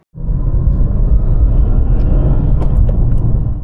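A BMW M2 Competition F87 with a limited-slip rear differential makes a brief, loud, steady engine roar under acceleration that holds for a few seconds. No one speaks.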